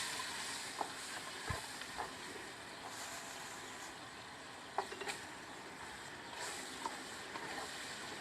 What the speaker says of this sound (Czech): Teď jsme si tu cibulu dali tady do hrnca a teď budeme smažit maso.